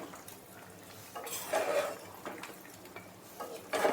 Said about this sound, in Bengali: চিকেন পিসগুলো দিয়ে ভালোভাবে কিন্তু একটু নেড়ে নিতে হবে।